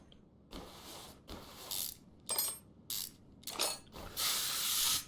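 Ratchet clicking in short bursts as gearbox bolts are undone in Car Mechanic Simulator 2021, about six separate rapid ratcheting runs with brief gaps between, close and clear with no talking.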